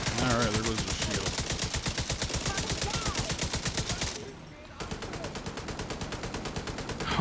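Sustained rapid LMG fire from The Division 2, a long unbroken stream of loud, even shots that briefly drops away and then resumes at the same pace.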